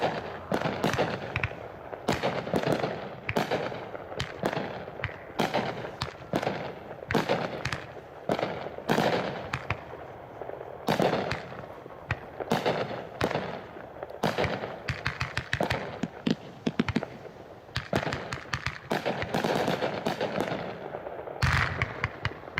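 A Hot Shot Grand Old Flag 28-shot, 500-gram fireworks cake firing at a demo, loud rapid sharp bangs and crackling bursts repeating steadily for over twenty seconds with no talking.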